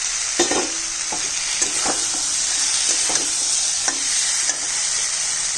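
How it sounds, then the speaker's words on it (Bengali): Greens stems and fried potato go into a loudly sizzling pan for a fish curry, with steady frying hiss and several sharp stirring scrapes, no talking. "ডাটা আর আলুটা দিয়ে দিচ্ছি, আলু ভাজাটা।"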